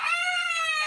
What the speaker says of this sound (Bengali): এই যে দেখেন মুরগি